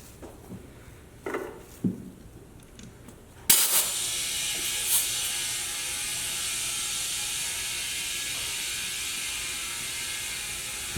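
A tire bead shifts and seats on a beadlock wheel during mounting: a sharp pop, then steady hissing air with faint ratcheting, creaking movement, close and continuous.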